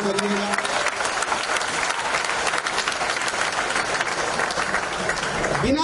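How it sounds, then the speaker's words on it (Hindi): An audience at a poetry recitation gives a steady, full round of clapping that holds at an even level for several seconds. "एक बार तालियों के साथ उनका अभिनंदन करिएगा।"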